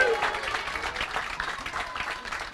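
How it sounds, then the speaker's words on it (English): Scattered clapping from part of an audience at a religious gathering, a loose, uneven patter fading slightly over time, mixed with faint crowd murmur and voices in the background. "Some of them clapping."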